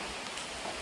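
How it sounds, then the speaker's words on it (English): Pouring rain at the end of the Big Savage Tunnel on a GAP and C&O Canal bike trip, a dense, steady broadband hiss of falling water, loud and unbroken with no voices. "And hopefully the rain stops in about 10 minutes and we'll be back."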